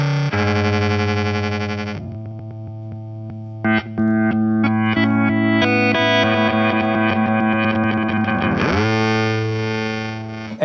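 An EQD Avalanche Run reverse delay pedal with its repeats running extremely fast gives a metallic, ring-modulator-like synth drone. The loud sustained tone starts abruptly, shifts through stuttering pitch changes, then swells back to a steady hum.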